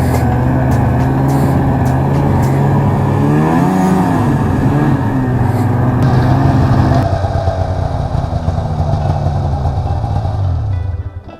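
Snowmobile engine, a 670, droning steadily and loud through a smooth ride, the pitch rising and falling as the throttle shifts, then the sound changes partway through and fades at the end.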